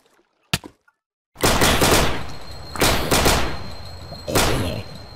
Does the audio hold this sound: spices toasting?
no